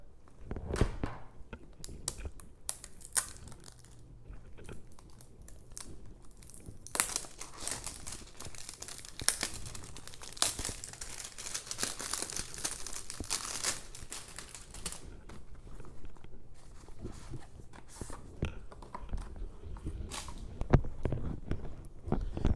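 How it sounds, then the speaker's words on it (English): Cardboard packaging for a pet hair detailer being opened and torn, a long run of close crinkling, rustling and tearing with irregular crackles and no speech. "Ended up accidentally ripping the packaging a little bit there"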